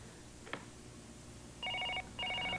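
A telephone rings in two short electronic bursts, each lasting under half a second with a pause between them, over quiet background noise and following an earlier brief click.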